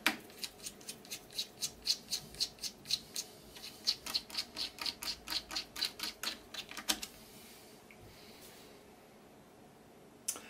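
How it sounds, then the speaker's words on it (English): Screws being worked loose from the casing of an Akai 4000 DB reel-to-reel tape deck with a small Allen key, a close run of quick rhythmic squeaking clicks for about seven seconds, then near quiet. "So we'll take them four screws out first."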